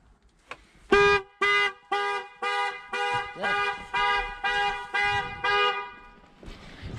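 A Porsche EV conversion's alarm horn blares nine times in a regular rhythm of loud, close, half-second honks after the immobiliser triggers, followed by a brief rustle and a few faint clicks.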